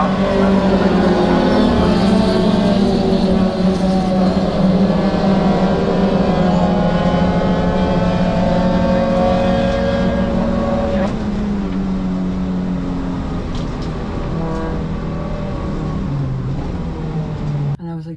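Mini Challenge Clubsport race cars at Castle Combe pull away from the start, several engines droning together and climbing in pitch through the gears, loud and close, with a commentator talking over the roar.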